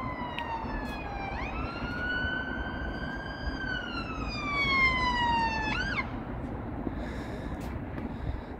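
From the top of an abandoned skyscraper, a distant ambulance siren wails in long rising and falling sweeps over steady city hum, then fades.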